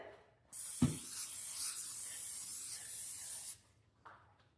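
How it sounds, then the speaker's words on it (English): A single sustained hiss of olive oil spray onto a casserole dish, about three seconds long, close and steady, preceded by a brief thump. "I just got some olive oil spray that I'll spray it with."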